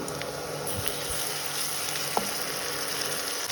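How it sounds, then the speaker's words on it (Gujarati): Chutney sizzling and frying with onion, chillies and garlic in a pan on low gas for street-style mung pulao, a steady close hiss with faint stirring scrapes and one small clink. "ચટણી નાખીને એને પણ આપણે એક મિનિટ માટે લસણ સરસ કૂક થઈ જાય ત્યાં સુધી સાતરણવાનું છે"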